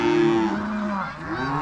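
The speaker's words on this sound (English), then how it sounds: "we're gonna have a few days of cattle singing" Cattle in a farm pen low and moo in drawn-out, wavering calls, one long bellow followed by overlapping lower moos from nearby animals, clear and close with no talking.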